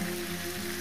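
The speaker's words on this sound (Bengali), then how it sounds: "দিয়ে দেবো এখানে একদম ফুটন্ত জল" Boiling water poured into hot fried masala for a katla fish curry, giving a short, steady sizzling rush over a low tonal hum.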